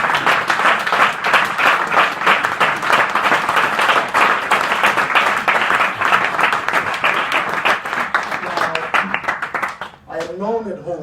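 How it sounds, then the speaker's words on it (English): Enthusiastic clapping fills a legislative House chamber, loud and sustained for about ten seconds before tapering off, then a voice begins speaking at the end. "invite the House to clap hands enthusiastically for those who have spoken before me"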